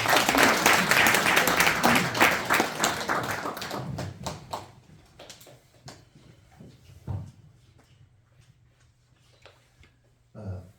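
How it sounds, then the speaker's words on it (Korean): A congregation at a Won Buddhist temple gathering gives a warm round of applause that starts full and dense, thins into scattered individual claps after about four seconds, and trails off into a quiet room with occasional taps. "큰 박수로 환영해 주십시오"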